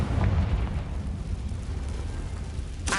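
Explosive blasting spell from Hogwarts Legacy on PS5, a heavy rumbling boom that fills the clip with low, dense roar, fading slightly before a bright burst near the end.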